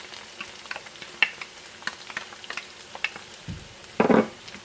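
Garlic frying in a pan for an Ethiopian beef and vegetable stir fry, a low steady sizzle with light scattered clicks and stirring scrapes, ending in a brief louder clatter, close and fairly quiet, without speech.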